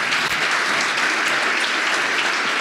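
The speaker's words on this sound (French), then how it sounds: "Vous pouvez applaudir très très fort, Alain." Loud, sustained audience applause at a French-language conference session, dense even clapping throughout with no pauses, heard close and full.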